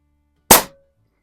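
A single sharp shot from a Pinty Striker .25 caliber bullpup air rifle, a loud close crack with a quick decay and a faint metallic ring, surrounded by silence.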